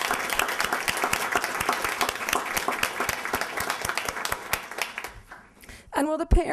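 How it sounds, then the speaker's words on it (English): Audience at an honors convocation applauding honorees, steady loud clapping from many hands that fades toward the end before a voice begins speaking. "Let's give our honorees a round of applause."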